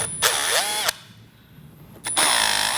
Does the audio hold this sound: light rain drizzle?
no